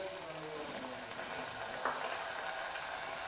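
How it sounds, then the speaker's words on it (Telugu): Tomato pieces cook down in oil for a Telugu ridge gourd (beerakaya) masala curry. A faint, steady sizzle and bubbling continues throughout, broken by a single sharp clink near the middle. "టమాటా ముక్కలు కూడా కొంచెం ఆయిల్లో మగ్గనిద్దాం"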